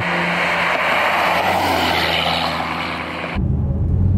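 A 2016 Dodge Challenger Scat Pack with a mid-muffler delete drones loudly and steadily, then cuts off abruptly to a lower idle burble near the end.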